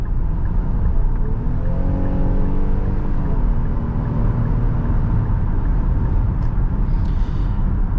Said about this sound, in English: there's a little bit of wind noise doing 60 miles per hour